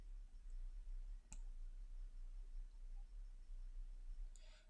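Pressing the Enter key on a computer keyboard gives one sharp, isolated click in a quiet room with low hum, and a faint flurry of light clicks follows near the end.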